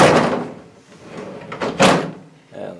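An IKEA dresser drawer slides into place in the bottom slot, giving a couple of close wooden scraping thumps followed by a final soft knock.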